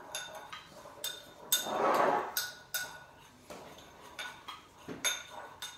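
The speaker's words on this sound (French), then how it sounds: "On mélange bien." Salt is stirred into a puffy paint mixture in a bowl, a spoon clinking and scraping against the sides in uneven strokes, close and fairly quiet.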